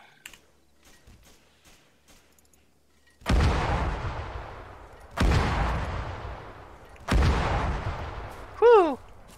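Mortar rounds explode in the Vietnam-era setting of the video game Arma 3: three heavy, booming impacts spaced about two seconds apart, each with a long rumbling decay, after faint earlier clatter and a brief warbling tone at the end.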